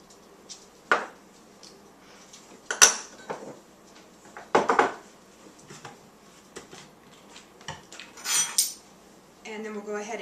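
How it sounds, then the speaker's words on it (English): Ingredients, including washed destemmed red seedless grapes, tipped into a saucepan in a kitchen: several separate clattering metal-on-pot knocks and scrapes, irregularly spaced, moderately close, with quiet gaps between them. "So we'll begin by just putting the ingredients in a saucepan."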